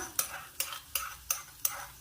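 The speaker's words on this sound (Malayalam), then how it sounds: "എള്ള് വറുത്തെടുക്കാം" Black sesame seeds roast in a pan, stirred with five evenly spaced scraping strokes that sound faint and close, each with a soft rustle of seeds.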